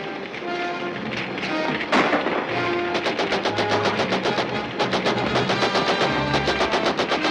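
Rapid bursts of gunfire crackle in a fast, steady rhythm amid a loud, chaotic din, with heavy rumbling underneath.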